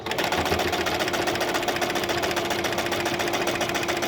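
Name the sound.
sewing machine stitching material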